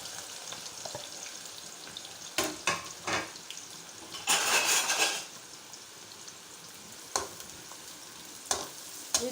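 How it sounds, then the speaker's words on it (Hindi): Two or three large onions frying in fully heated oil in a home kitchen: a continuous crackling hiss punctuated by sharp spatter bursts and one loud surge of sizzling midway. "अब सबसे पहले मैं इसमें ऑयल में प्याज डालूँगी।"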